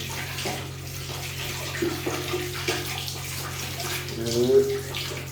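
Hot water runs steadily from a tap indoors, a continuous hiss of flow that holds at an even level throughout, with faint background hum and a brief voice near the end.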